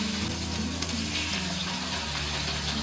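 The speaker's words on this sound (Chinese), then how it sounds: "煎这个蚝烙我是用铁锅的" Oyster omelette frying in plenty of oil in a smoking-hot iron wok, giving a steady, close, loud sizzle that runs unbroken from start to finish with no talking.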